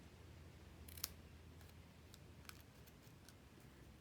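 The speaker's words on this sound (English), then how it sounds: "So all we're going to do is just snip" Scissors snipping decorative paper during card-making, a couple of faint, crisp close cuts standing out over low room hiss, with a few softer ticks following.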